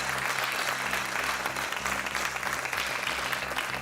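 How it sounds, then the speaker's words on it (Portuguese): Studio audience of a game show applauding to welcome a guest, a loud continuous wash of clapping with a low musical hum running underneath throughout. "O aplauso para o Hugo Bibiano"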